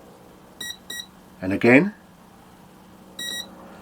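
A Turnigy Plush 32 series ESC beeps during throttle programming with short high electronic tones, two beeps near the start and one later. Someone speaks briefly between them.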